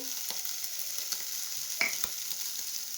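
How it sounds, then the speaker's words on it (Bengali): Dried red chillies tempering in hot oil, a steady bright sizzle with a few faint clinks of a utensil against the pan. "এই তেলে দিয়ে দেবো দুটো শুকনো লঙ্কা ফোড়ন দেবো"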